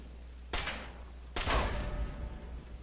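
Two sharp gunshot blasts in Fallout 3, spaced under a second apart, each with a broad crack and rumbling decay; the second is louder and longer, with no talk over them.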